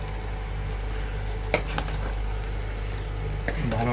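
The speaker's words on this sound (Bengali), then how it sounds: "এবং আলুগুলো দিয়ে দেব। ভালোভাবে নেড়ে চেড়ে দিতে হবে।" Potatoes being stirred into a simmering rabbit curry in a pan, with a steady low sizzle and a few scraping clinks of the spoon against the pot, with no talking.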